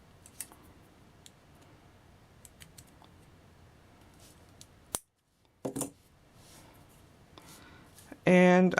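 Wire cutters snip the excess wire from a wrapped loop on a handmade icicle ornament, a sharp click standing out among small handling taps, then a sudden loud burst at the end.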